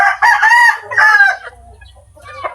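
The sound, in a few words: rooster (stag) crowing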